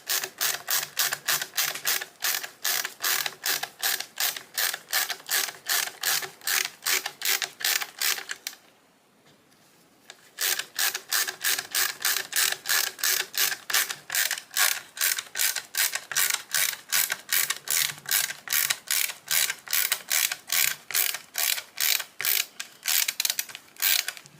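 Steady, rapid mechanical clicking runs close and loud as screws are driven into a Swiss K31 rifle's barreled action, continuing in even beats with one short pause partway before resuming at the same pace.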